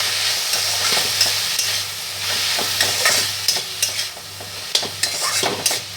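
Khar kol (elephant-foot yam) leaves with salt and turmeric fry in a pan, a steady close sizzle broken by the scrape and clatter of stirring, with no voices.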